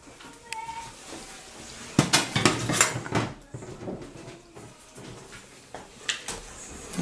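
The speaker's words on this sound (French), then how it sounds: "Je vais faire une assiette, donc une assiette avec du riz blanc." Chili con carne and white rice are spooned onto a plate, with clinks of cutlery and dishware knocking in short bursts, loudest in the middle, while a voice talks alongside.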